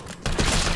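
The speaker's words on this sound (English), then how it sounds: "I gotta shoot them now" Gunfire from the video game Resident Evil 3, a short loud burst of shots starting abruptly after a brief quiet moment and filling the rest of the clip.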